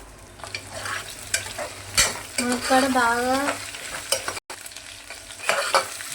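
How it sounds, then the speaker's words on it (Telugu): Drumstick pieces fry with onions in a pan, a close steady sizzle with repeated scrapes and knocks of a stirring utensil and a brief warbling tone midway, with no speech. "మునక్కాయలు బాగా ఫ్రై చేసుకోవాలి"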